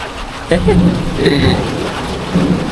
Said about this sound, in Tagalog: naulan pa rin, no? Ang lakas ng hulog.